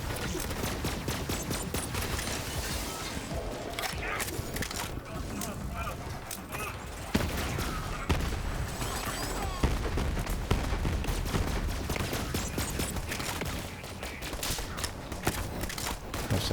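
A long run of continuous rapid fire from the Cutsman SMG in Borderlands, dense and loud with brief breaks, mixed with mechanical clatter and game effects, while a voice talks over it.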